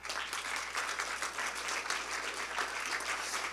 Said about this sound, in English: I think we should applaud strongly